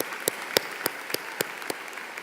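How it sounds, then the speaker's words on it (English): A high school commencement audience applauding parents, with a dense background of clapping from the crowd and a few sharp, louder claps close by at a regular rhythm. "Give your parents a round of applause."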